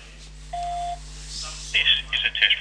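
Three short electronic tones from a phone keypad dialing star 99 on a Trixbox phone system, preceded by a single steady beep, heard close and clear over a low background hum.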